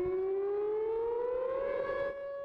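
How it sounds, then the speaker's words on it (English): A civil defense siren wails alone, its tone slowly rising in pitch over a couple of seconds, then dropping off slightly at the end. "The sirens had went off"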